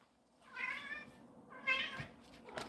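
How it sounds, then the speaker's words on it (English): A house cat lets out two drawn-out, wailing meows close by, with a brief sharper sound at the end and no talking. "here comes my cat again going crazy"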